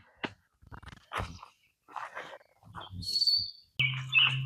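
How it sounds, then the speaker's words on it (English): Scattered short bird chirps and tweets come in bursts, fairly close and clear, with a sustained higher call near the end. "You can hear the birds."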